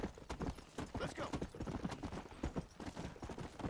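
Horse hooves clip-clop steadily in the Western video game Red Dead Redemption, a brisk continuous rhythm of soft thuds, fairly close but quiet.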